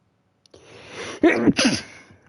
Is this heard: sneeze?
yes